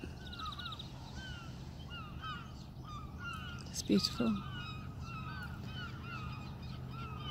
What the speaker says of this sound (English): Birds flying, calling.